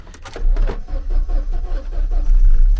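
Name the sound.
car engine cranking and starting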